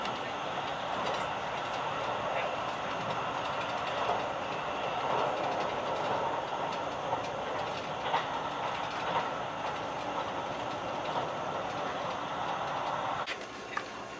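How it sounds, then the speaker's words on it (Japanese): A JR 651 series Kusatsu limited express train departs Shin-Maebashi Station with a steady rumbling drone and occasional clacks of wheels on rail, continuous and close, heard from aboard, with no voices. "列車は新米橋駅を出発。"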